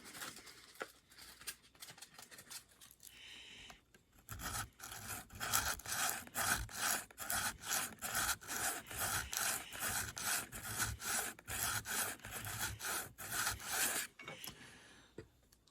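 Rhythmic back-and-forth rasping of 120 grit sandpaper against a small model train detail part, a quiet pause at first, then steady close strokes with no talk.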